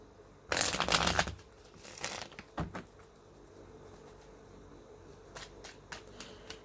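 Tarot cards being shuffled up close: a loud riffle, a quick second flutter, then softer taps and light shuffling, quiet in between.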